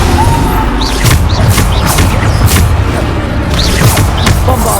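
Spell blasts hit with loud booming impacts in Hogwarts Legacy, several crashes and whooshes in quick succession over dense, continuous combat noise.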